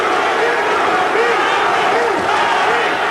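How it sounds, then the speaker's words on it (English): Boxing arena crowd at an IBF heavyweight title fight between Larry Holmes and Carl Williams, a loud, steady roar of many voices with rising and falling chant-like swells running continuously. "And the crowd chanting for the truth."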